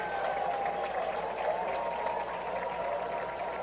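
Steady crowd applause fills the stands at a 5A boys high school soccer championship between Roy and Wasatch, a continuous, moderately distant wash of clapping.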